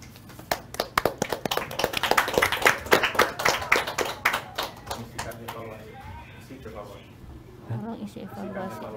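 Scattered clapping from participants closing a community-level procurement discussion, a few seconds of fairly close, uneven claps that fade out as a voice starts talking.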